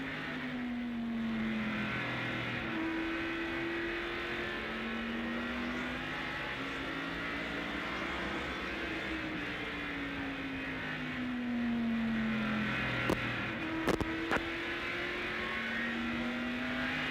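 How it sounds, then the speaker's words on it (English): Race car engine heard from an in-car camera at the 1987 First Union 400 NASCAR race, a steady loud drone rising and falling in pitch through gear shifts over a lap, with brief clicks near the end. "now we'll give you a lap or two with Ken Schrader in the Hardee's race cam"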